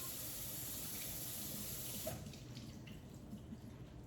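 Salad greens are rinsed under a running kitchen tap, a steady close hiss of flowing water into a sink that changes and softens about halfway through, with no talking.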